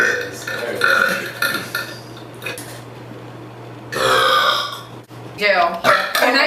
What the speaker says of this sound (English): Maybe burp me a little bit.